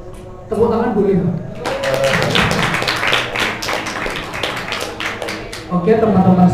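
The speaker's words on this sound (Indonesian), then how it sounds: "Tepuk tangan boleh?" An audience in a community sharing session in Semarang breaks into a dense burst of applause lasting several seconds, with talking before it and again as the clapping fades.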